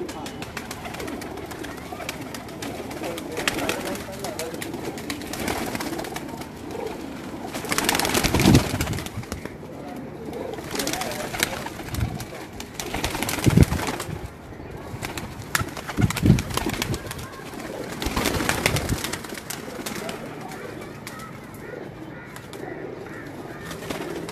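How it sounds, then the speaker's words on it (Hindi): Pigeons coo in low, repeated bursts on a rooftop amid a busy outdoor background of rustling and distant chatter. "ये सारे जेठ वाले कबूतर हैं"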